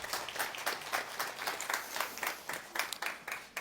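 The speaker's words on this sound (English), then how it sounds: "So I just want to give a round of applause, folks." Applause at a company all-hands meeting, a modest group clapping with fairly distinct, uneven individual claps, moderately distant and fairly quiet, continuing steadily for a few seconds.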